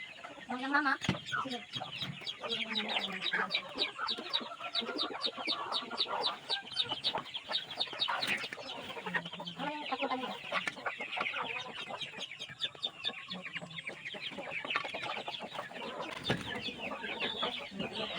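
Backyard chickens cluck and chatter close by in rapid repeated bursts, with hens calling over one another at varying pitches while a person talks quietly in between.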